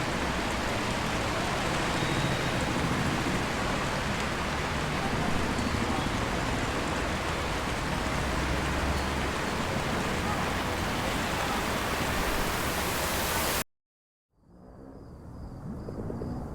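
Steady, dense downpour in the video game Until Then, a loud continuous hiss of rain that runs unbroken for a long stretch, then drops out abruptly before a softer ambience returns.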